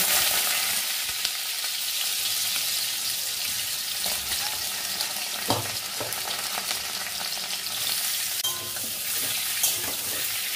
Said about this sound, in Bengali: এই যে তেল গরম হয়ে গেছে, এইবার এই পেঁপেগুলোকে দিয়ে দিচ্ছি।